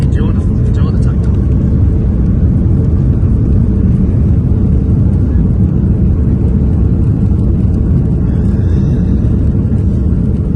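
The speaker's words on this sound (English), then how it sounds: "So enjoy the takeoff." Loud, steady low roar of jet engines during an airplane takeoff, heard from inside the cabin, filling the whole stretch with constant rumble and no clear breaks.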